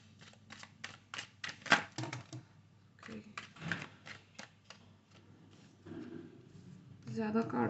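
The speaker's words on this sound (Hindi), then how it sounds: "तब तक मैं आपके कार्ड निकालती हूँ।" Tarot-style cards drawn and shuffled during a spiritual reading, heard as quick bursts of crisp flicking and snapping near the microphone, with pauses between runs and a dense riffle near the end.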